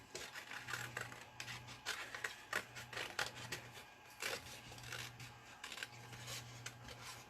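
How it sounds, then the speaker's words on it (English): Scissors rough-cutting closely around a printed paper fairy image, giving a steady run of soft, near snips and paper rasps with a faint low hum underneath. "I'm going to just rough cut quite closely to my fairy"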